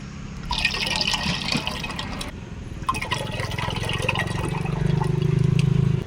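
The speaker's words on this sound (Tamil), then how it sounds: "இது வந்து எண்ணெய் ஊற்றுறீங்க இப்போ வந்து மீன் குழம்பு வைக்கிறதுக்கு அக்கா வந்து எண்ணெய் ஊற்றிருக்காங்க" Oil is poured into a pan for fish curry at a low-price eatery near Mettur Dam, giving a continuous close liquid pouring and trickling sound that grows fuller toward the end, heard without speech.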